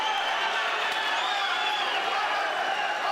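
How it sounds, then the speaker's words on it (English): A large arena crowd at a kickboxing fight in the Manage Arena keeps up a steady, dense roar of noise throughout. A commentator talks over it. "The crowd's starting to come alive here in the Manage Arena"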